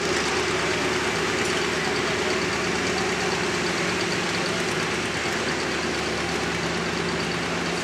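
A John Deere pulling tractor in the pro field class rumbles steadily at a Kansas tractor pull, a loud, continuous low engine drone with some rough knocking texture and no voices over it.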